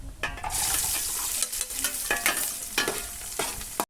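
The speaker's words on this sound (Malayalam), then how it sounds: "എണ്ണ ചൂടായി അടുത്തായിട്ട് നമുക്ക് ഉള്ളി ഇടാട്ടോ" Loud, close sizzling of onions in hot oil for Palakkad-style chicken curry, with repeated scraping and clattering strokes of a spoon stirring through the pan.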